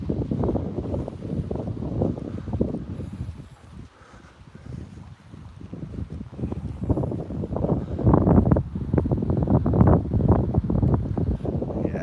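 Gusty wind buffets the microphone outdoors on a hilly morning walk near waterfalls, a loud low rumble that swells and eases in waves, dipping briefly before building stronger again.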